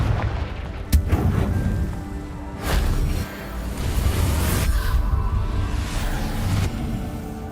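Confringo blasting spell explosions in the Hogwarts Legacy video game: several loud, close booms with whooshing bursts and rumbling decay, one after another.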